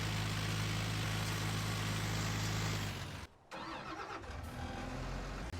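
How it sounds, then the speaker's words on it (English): A tractor engine in a farming video game labors while clearing evergreen trees, a loud, steady mid-pitched drone that cuts out briefly for a moment before rumbling back up at full strength. "the tractor is handling it surprisingly well"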